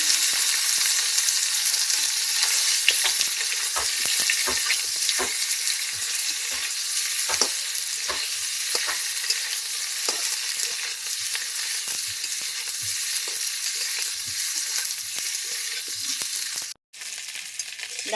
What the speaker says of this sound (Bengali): আগে থাকতে সেদ্ধ করা আলু রেখে দিয়েছিলাম, সেগুলো আমি একটু তেলে হালকা করে শুধু নেড়ে নেব